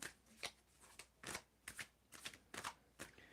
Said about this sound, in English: And so you can tell me when to stop shuffling.